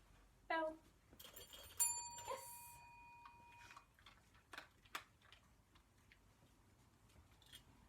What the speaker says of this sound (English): Your dog's going to work out that the cue means they go off and ring the bell.